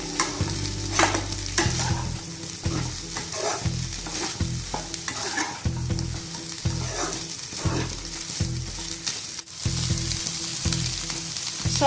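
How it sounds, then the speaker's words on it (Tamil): Rice stirred into sizzling Schezwan egg fried rice in a hot pan, with repeated scraping and tossing strokes of a spatula over a constant frying hiss. "இதுல ரைஸ் சேர்த்துடலாம். ரைஸ் சேர்த்து நல்லா கலந்துடலாம்."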